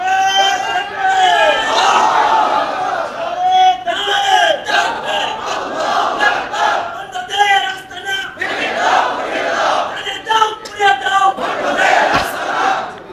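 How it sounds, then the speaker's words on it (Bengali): A large crowd chants slogans in unison at a Bengali religious gathering, loud rhythmic shouted phrases rising and falling in repeated bursts across the whole stretch, voices massed close and strong. "এবার স্লোগান হবে।"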